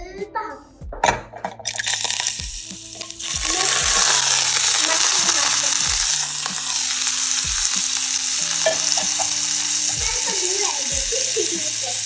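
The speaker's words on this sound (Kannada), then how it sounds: "ಈಗ ನೆಕ್ಸ್ಟ್ ಸ್ಟೆಪ್, ಸ್ವಲ್ಪ ಫ್ರೈ ಮಾಡಬೇಕು" Boiled mushrooms fry in a little oil with a loud, dense sizzle, accompanied by repeated clinks and scrapes of a spoon against the pan, after a brief clatter at the start.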